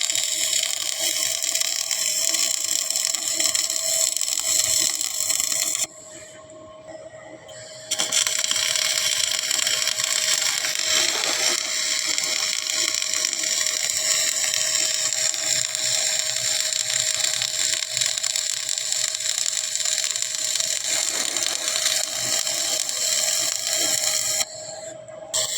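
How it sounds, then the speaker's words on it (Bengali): MIG welding crackles and buzzes in a steady harsh hiss, broken by one short pause before the arc resumes, close and continuous with no voices. "আমাদের সাইফুল ভাই ওয়েল্ডিং মারতেছে।"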